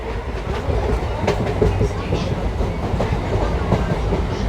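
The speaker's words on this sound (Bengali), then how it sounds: "সাতবেড়িয়া ছেড়ে আমাদের ট্রেন এই মুহূর্তে বেরিয়ে যাচ্ছে" A local train on the Ranaghat–Bongaon line pulls out of Satberia station, a steady loud rumble with rhythmic clickety-clack of wheels over rail joints, heard from inside the carriage.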